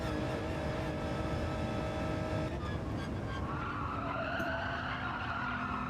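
Tyres skid and squeal under a steady engine roar in Gran Turismo 7 at Michelin Raceway Road Atlanta, the screech held for several seconds at moderate volume.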